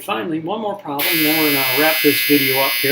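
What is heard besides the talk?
laundry dryer buzzer going off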